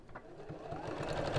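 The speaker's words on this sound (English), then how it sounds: "I'm going to top stitch all the way around the edge." A sewing machine runs while top stitching around the edge of a fabric piece, its motor rising steadily and growing louder across a short, close burst of rapid stitching, with no talking.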